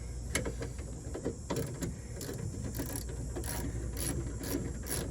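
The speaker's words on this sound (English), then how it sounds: "what I'm gonna end up doing is taking this bolt loose" A hand ratchet clicks in a rapid series of sharp, close pawl ticks, pausing and resuming, while loosening an AC line bolt under the hood of a Honda Pilot.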